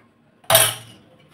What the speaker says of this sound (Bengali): কয়েকটা চায়ের বাসন আছে মাজবো